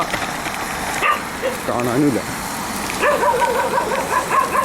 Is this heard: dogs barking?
yes